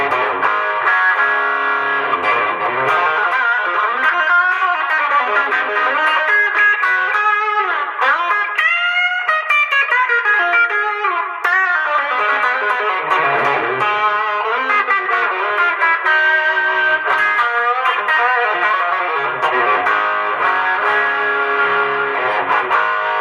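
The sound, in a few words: electric guitar through overdrive pedal set like tube screamer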